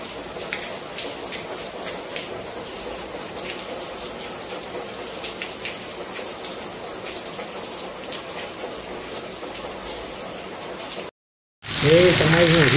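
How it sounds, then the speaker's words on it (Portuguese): Heavy rain pours steadily in Caetano, Rio Grande do Norte, in Brazil's Northeast, a dense, loud hiss of drops on surfaces that cuts off abruptly near the end before a brighter, different sound begins. "É muita chuva."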